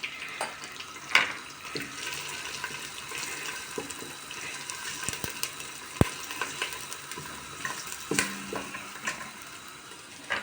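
Water is poured into a pot of tomato meatball soup on the stove, giving a soft splashing and sizzling wash with scattered clinks, fairly quiet and close.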